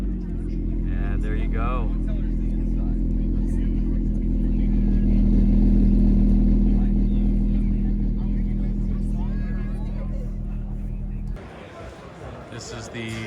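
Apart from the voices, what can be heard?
J37 V6 Acura TSX engine starting and revving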